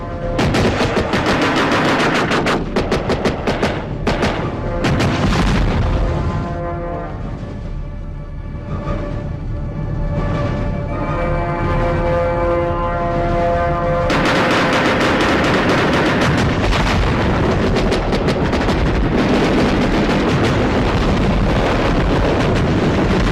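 Loud movie battle sound of sustained automatic gunfire and explosive blasts in an adventure thriller, dense rapid bursts, then a humming lull, then heavy firing again, close and continuous.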